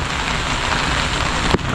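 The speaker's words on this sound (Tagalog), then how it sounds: "Ayan, payok-payok ang ulan." Dense, steady downpour of heavy rain with a constant hiss and no voices.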